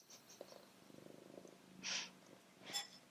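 A cat on a table purrs softly in a quick rhythmic flutter, faint and close, with a couple of brief breathy snorts or sniffs breaking in.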